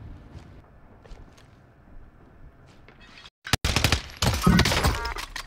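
Gunfire from the video game Call of Duty: Warzone, with a sudden burst of loud, rapid shots and heavy blasts following a steady, windy ambient hum.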